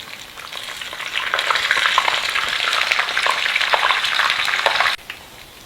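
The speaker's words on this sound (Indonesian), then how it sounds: "Langsung aja aku goreng, nggak mau banyakan, beberapa aja dulu." Chicken sempol sizzles and crackles steadily in hot oil, a dense, loud frying hiss that holds for several seconds before dropping off abruptly near the end.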